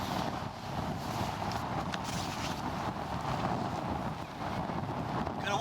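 Strong, steady wind buffets a wild campsite at Bowness on Solway, a continuous loud roar and rush against the microphone with no letup.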